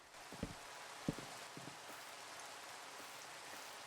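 Soft, steady rain falls in a game world, a faint continuous hiss with a few quiet thumps and taps scattered through it.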